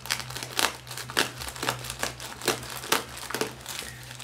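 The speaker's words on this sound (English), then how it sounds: "Those are sealed plastic bags, so you would have to cut them." Thick sealed plastic bags holding parts of a 1/35 scale Katyusha BM-13 model kit crinkle and rustle as they are handled and cut open, repeated close crackling bursts over a steady low hum.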